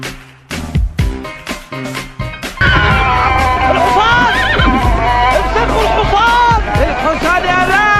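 A horse whinnies loudly in an FC Mobile game edit, following a run of sharp clipped sounds, with voices and crowd babble mixed in around the neigh.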